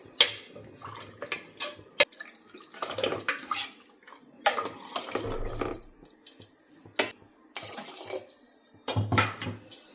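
Water splashes and pours in intermittent bursts into a cooking pot of roasted rice and lentils for khichdi, with clinks of the pot and short gaps between pours, close and moderately loud.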